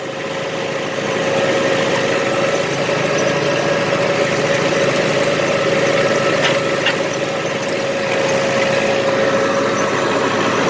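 A tractor engine runs steadily at idle, a loud continuous drone with a low hum throughout, and no voices.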